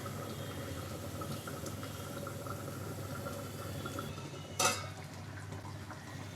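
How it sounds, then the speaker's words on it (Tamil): A low, steady bubbling simmer of kara kuzhambu, a brinjal and drumstick curry, in a lidded pot, with a brief metallic clink partway through, no voices. "மறுபடியும் மூடி போட்டு குழம்பு கொஞ்சம் திக்காக வர வரைக்கும் கொதிக்க வைக்கலாம்"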